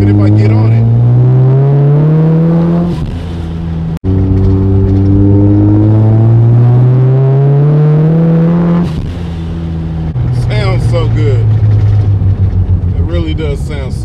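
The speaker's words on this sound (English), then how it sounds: "You hear that exhaust? It's nice and calm and quiet, even if I get on it." Tuned car engine and exhaust accelerating through gears from inside the car, a loud rising drone that drops at each shift and climbs again, with a voice talking under it.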